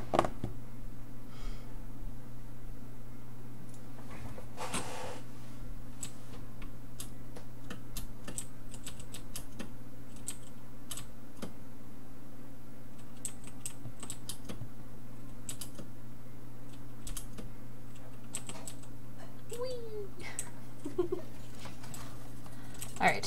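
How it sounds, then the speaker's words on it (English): A loud computer keyboard clatters in quick, uneven bursts of close keystrokes throughout, with a person talking at times over the typing. "Loud keyboard is loud."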